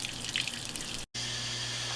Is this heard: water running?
yes